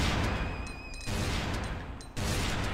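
Gunfire in the Tomb Raider custom level Good Bye Amanda, a dense burst of shots cutting out at about one second, then a second burst resuming after a short lull, loud and close with no talk.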